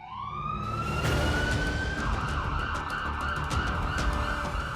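Government vehicles racing through the streets of Ayodhya with hooters and sirens blaring, a loud rising wail that settles into a steady, close tone over traffic noise.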